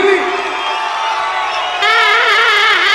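A crowd at a tiger-dance competition cheers and whoops loudly, with a sudden surge of shouting and high voices partway through as the excitement builds.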